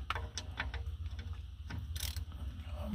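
Ratchet wrench tightening a bolt on a truck's foot brake valve, a quick run of close, faint clicks with a few louder pawl snaps and no talking.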